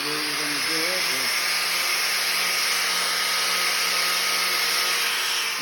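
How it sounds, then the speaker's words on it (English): An angle grinder runs steadily and loudly on an implement tire, buffing the rubber around a puncture before patching, a continuous high-pitched whine with brief talk at the start. "we're going to buff this up with the angle grinder"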